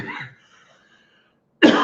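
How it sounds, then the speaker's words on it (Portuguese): A single loud, sharp cough bursts out close up after a short quiet pause that follows a brief voice. "até vou tossir de graça"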